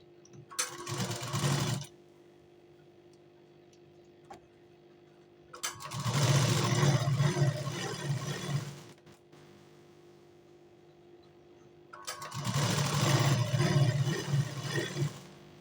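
A sewing machine stitches blouse fabric and canvas in three bursts of steady mechanical whirring, each lasting a few seconds and separated by quiet pauses. The motor hum is close and moderately loud, and no one speaks.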